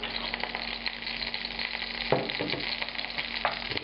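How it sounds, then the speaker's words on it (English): Olive oil poured into a pan heated to about 200 °C, giving a steady close sizzle with brief crackling bursts, no talking. "So now I'm going to add a generous amount of olive oil here."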